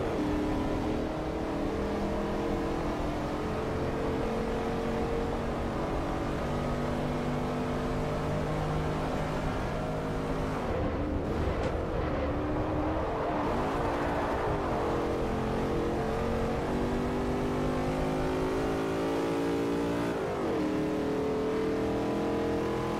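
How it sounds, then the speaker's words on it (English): Race car engine from the video game Forza Motorsport 4 revs loudly and steadily throughout, with dense layered harmonics, a brief dip in the middle and a smaller dip near the end, with no talking. "What an engine noise."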